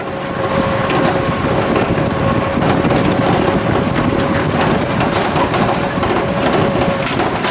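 A hypergolic model rocket motor firing outdoors with a steady, loud, broadband roar and a faint tonal whine running beneath it, unbroken for the whole stretch.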